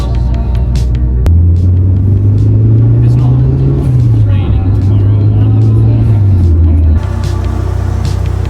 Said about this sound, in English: I go off on a little jolly drive